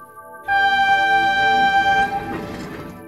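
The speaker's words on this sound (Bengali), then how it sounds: "এইটা মনে হয় লাস্ট ট্রেন, তাহলে তো বেশ রাত হয়েছে।" A train horn blares a sustained two-tone note for about two seconds, followed by rumbling rail noise as the train passes.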